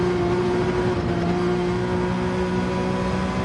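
Porsche 911 in Gran Turismo 7 held at full throttle during an online race, a steady, loud engine drone with a sustained high-revving tone throughout, no talk.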